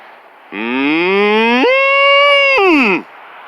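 A cow in a grazing area near a burned stretch of land gives one loud, close, drawn-out moo that rises and then falls away, alone with no talk over it.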